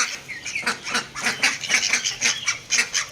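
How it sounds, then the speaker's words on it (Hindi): Several ducks quack and honk noisily over one another, close by, in a rapid, continuous chorus of nasal calls. "हमारी बाकी बतखे तो ठीक हैं, देखिए कैसे शोर मचाने लगी हुई हैं।"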